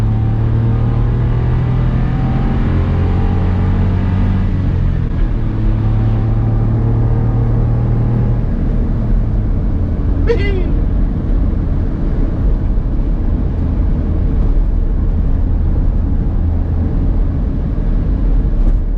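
A Smart car rolling over a bumpy road, its steady low engine and road rumble filling the cabin loudly throughout, with shifting engine tones early on and a brief rattling clunk midway.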